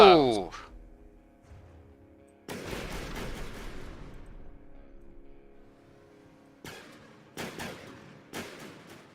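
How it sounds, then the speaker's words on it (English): Gunfire and explosive impacts erupt in bursts from incoming missiles during a From the Depths naval combat game, loud sharp volleys separated by ringing decays, with a brief speaking voice at the start. "Missiles!"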